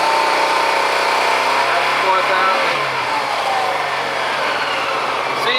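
Honda PC-800 motorcycle engine, freshly carburetor-balanced, revving under slow and then snap throttle, a loud continuous close-up roar with someone speaking briefly over it.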